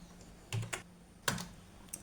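Keystrokes on a computer keyboard, with three or four separate clicks and a firmer press of the enter key, close and clear over a low hum in a quiet room.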